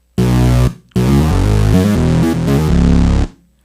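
A synth bass patch shaped by filter and oscillator plays short loud phrases of gritty, thick low notes, close and alone, with a brief gap after the first note.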